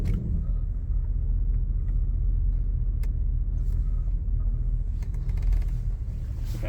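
A 2011 Ford F150 Harley Davidson pickup with 102k miles drives a short distance, a steady low engine rumble close by, continuous and unbroken, with a few faint clicks near the end and no talk.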